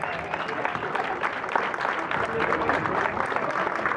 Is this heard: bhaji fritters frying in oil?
no